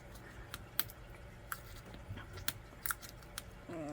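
A plastic seal on a boba tea supply container being carefully cut open with scissors, giving a few sharp snipping clicks and scrapes at close range, with no voices.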